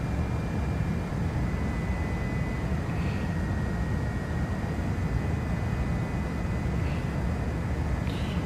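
An Airbus A330-900 on its takeoff roll in X-Plane 12, a steady, loud jet engine roar with broad rumble and a thin high whine, continuous throughout with no talk.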